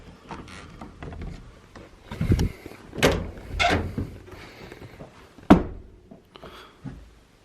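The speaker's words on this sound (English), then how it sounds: "Door shut." A door being shut produces a series of clunks and knocks, with several sharp thumps spaced a second or so apart and a final firm bang near the end, in a quiet room.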